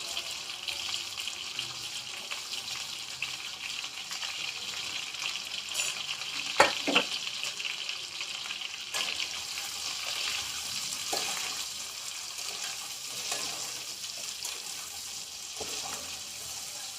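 Potatoes frying in a pan of oil with radhuni spice and whole cumin give a steady, lively sizzle, with a few brief clinks and stirring scrapes, and no talk.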